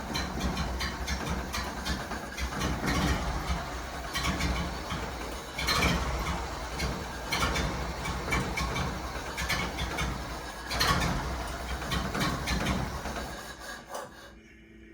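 A 1931 Ford Model A pickup idles steadily, its old engine chugging with a rough, rhythmic mechanical clatter up close, then cutting out abruptly at the end as it runs dry of fuel.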